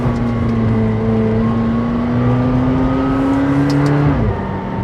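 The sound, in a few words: McLaren 720S accelerating with turbo boost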